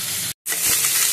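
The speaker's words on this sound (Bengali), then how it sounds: "মাছ ভাজাটা আমার হয়ে গেছে" Morola fish fries in a pan with a bright, close sizzle that cuts out for a split second and then resumes just as strongly.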